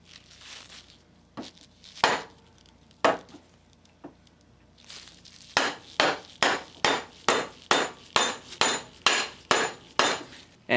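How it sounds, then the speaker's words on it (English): Sharp taps of a plastic hammer driving a bearing into a Honda Accord power steering pump housing, a few scattered at first, then a steady series of about a dozen evenly spaced knocks, close and clear. "Then just tap it in with a plastic hammer until it bottoms out in the housing."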